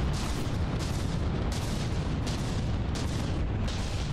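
Artillery shells striking a battleship in From the Depths, a continuous roar of heavy booms and rumbling impacts with several sharper blasts standing out.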